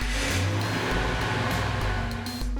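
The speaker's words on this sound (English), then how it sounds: "Start the vehicle and monitor pressure" A Ford Expedition engine idles steadily after a new fuel pump is fitted, giving a close, continuous low rumble with no voices over it.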